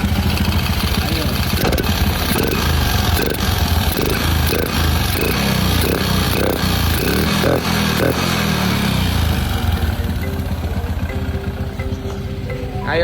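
Motorcycle engine with a freshly tuned carburetor runs steadily at a loud idle with a rhythmic pulse, a few brief throttle surges, and the sound easing slightly toward the end.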